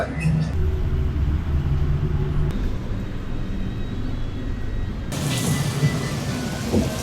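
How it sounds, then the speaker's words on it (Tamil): Steady rain falling outdoors at Peradeniya University, a continuous dense hiss with low rumbling, loud and unbroken throughout the clip. "இந்த இடத்துல மழை பெய்யுது"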